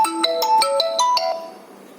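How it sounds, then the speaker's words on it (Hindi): A mobile phone ringtone goes off in a chemistry lecture, a rapid run of bright electronic melody notes that rings steadily for over a second, then fades out. "ये किसका फोन आ रहा है यहाँ?"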